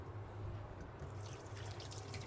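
Chopped vegetables rinsed in a colander under running tap water give a faint, steady wash of flowing water with soft splashing in a home kitchen during meal prep.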